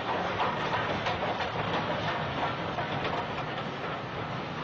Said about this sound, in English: King Arthur 778, a Pelias, hauls a Dunkirk evacuation train through Beckenham Junction